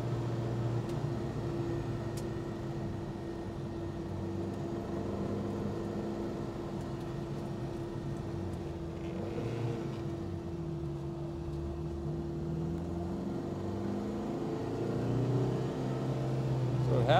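A 1969 Alfa Romeo GTV 1750 driving around corners, heard from inside as a steady low engine drone with a faint whine, holding fairly even and rising slightly near the end.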